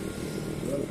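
A motorcycle engine idling in a village before a ride to town, a steady low rumble that holds evenly throughout at moderate volume.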